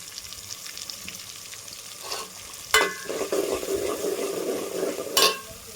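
Boiled peas tipped into a pan of tomato curry, a couple of sharp clatters followed by a moderate bubbling sizzle and stirring, fairly quiet overall.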